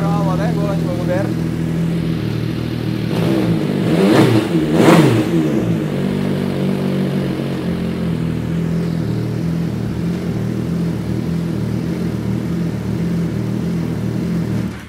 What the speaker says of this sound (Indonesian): itu dia tadi teman-teman suara dari MV Agusta Stradale